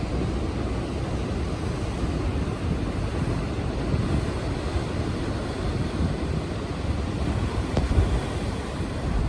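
Ocean water churns and surges at Thor's Well on the rocky Oregon coast near Yachats, a steady, broad wash of surf mixed with wind noise on the microphone and no voices.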